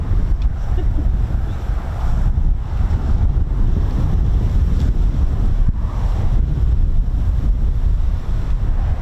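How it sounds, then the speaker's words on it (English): Strong wind buffets across the RAF Marham airfield, a loud, gusting rumble battering the microphone continuously, swelling and dipping throughout. "It is windy though"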